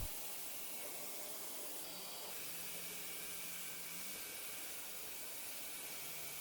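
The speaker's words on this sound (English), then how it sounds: "I really like this sprayer that I'm using because you can spray vertically and then you can turn the nozzle to spray horizontally." A paint sprayer sends gray bonding primer onto a wooden nightstand in a steady, unbroken hiss that runs the whole time at low volume, with no talk.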